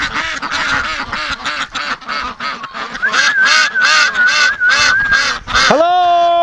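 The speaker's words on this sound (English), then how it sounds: "all the ducks woke up and started quacking like crazy" Ducks and geese at a duck breeding facility quack and honk loudly and up close in a rapid, overlapping burst, ending in a long, drawn-out honk.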